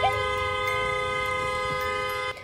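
A vehicle horn blares in one long, loud, sustained honk, trying to wake a driver asleep at the wheel, holding steady for over two seconds before cutting off abruptly.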